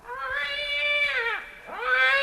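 A black cat lets out two drawn-out, whiny meows, the second rising after a brief dip, close and fairly loud with nothing else over it.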